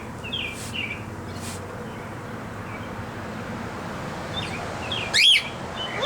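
Pet cockatiels chirp indoors, with faint short chirps early on and one loud, close, rising-and-falling call near the end over a low background hum.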